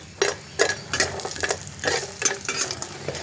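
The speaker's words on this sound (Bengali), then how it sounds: "তেলটা গরম হয়ে গেছে, এখন আমি বড়িগুলো একটু লাল লাল করে ভেজে নেব।" Small lentil dumplings (bori) frying in hot oil in a wok, giving a soft steady sizzle broken by repeated scraping stirs of a spatula against the metal.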